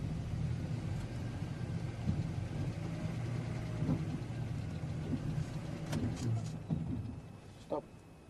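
Safari vehicle engine running on an evening game drive at Thornybush, a steady mid-pitched idle with a grating gearbox, while people talk over it and a few knocks and clatters sound toward the end.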